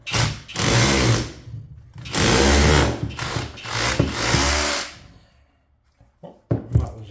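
A power drill in chisel mode chips plaster from a wall during top-floor electrical work. It gives two long, loud hammering bursts, then shorter ones, and the clip ends in near quiet with a few knocks.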